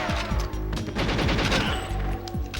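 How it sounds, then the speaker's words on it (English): Rapid gunfire from the video game Goldeneye 007, with dense overlapping bursts and repeated shots over a steady game background, loud and continuous throughout. "here I am getting shot to hell"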